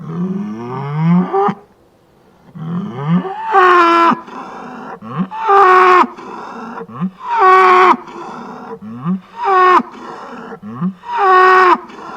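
Loud, drawn-out moos from cattle nearby, about six calls in a row separated by short pauses.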